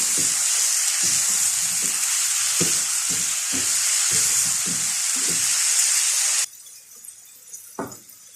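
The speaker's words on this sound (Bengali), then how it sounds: "তো দেখতে পাচ্ছ খুব ভালোভাবে আমি মশলাটা কষিয়ে নিলাম" Masala paste sizzles steadily in hot oil while being fried with zucchini for a spicy prawn curry, a loud continuous hiss broken by rhythmic stirring scrapes that suddenly drops away near the end.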